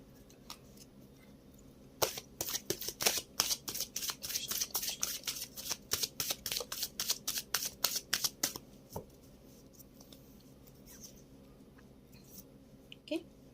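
A tarot deck being shuffled by hand, a fast run of crisp card snaps and riffles close by that thins out into scattered clicks as cards are drawn, no one speaking.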